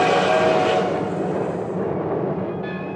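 Suburban passenger train rumbling steadily past, with a broad, loud rolling roar that slowly fades and a brief higher tone near the end.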